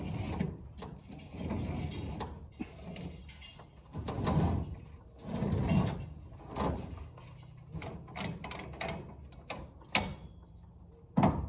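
An old hay trolley in a 100-year-old barn rolls along its overhead track, giving irregular metallic clanks, squeaks and rumbling bursts that rise and fade over several seconds.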